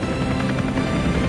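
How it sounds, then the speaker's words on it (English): Military helicopters in a combined arrowhead formation flypast at a National Day parade in Singapore, Seahawk, Apache, Super Puma and Chinook, give a steady loud rotor and turbine roar that fills the whole stretch without a break. "Leading this year's National Day aerial flypast is the combined helicopter formation featuring"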